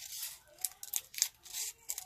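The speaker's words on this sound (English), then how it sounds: "I'm going to take my scissors and I am going to cut it down to a teeny," Scissors snip through a paper cupcake liner, cutting it down into a tiny rosette for a Halloween embellishment; several quiet, close crisp snips with papery rustle in between, no talking.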